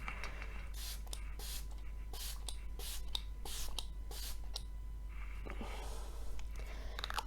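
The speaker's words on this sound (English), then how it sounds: "I love the sprayer of the setting spray." A series of short, breathy bursts from a Catrice Prime and Fine setting spray, roughly a dozen in quick uneven succession, close and fairly quiet, with a faint low hum underneath.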